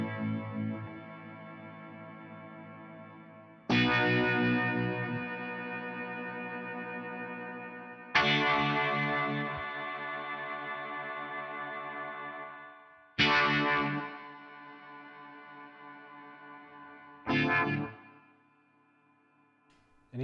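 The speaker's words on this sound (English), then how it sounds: "So in this case, you got a spring reverb. So here's what the shimmer sounds like for that." Electric guitar through a Nux Atlantic delay and reverb pedal on a spring reverb shimmer setting: four struck chords, each blooming into a long shimmering tail that slowly fades, alone with no talking.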